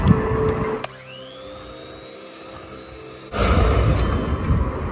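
An electric whisk beats cake batter with sugar for a custard milk cake, giving a steady close motor whine that drops in level about a second in and then surges louder near the end, with no talking.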